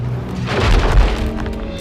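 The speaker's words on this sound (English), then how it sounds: "The banging and grinding of the ice against the steel hull is unsettling." Heavy sea ice bangs and grinds against a schooner's steel hull in the Arctic, a loud, deep, booming rumble with rough scraping that swells and rolls on through the moment, no voices.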